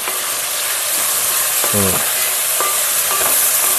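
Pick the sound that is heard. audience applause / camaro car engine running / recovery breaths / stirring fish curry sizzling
stirring fish curry sizzling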